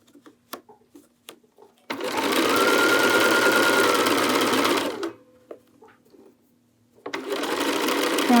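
A sewing machine runs in two steady bursts, stitching fabric, one about three seconds long and a second starting after a short pause, loud and close, with small handling clicks and a voice between them.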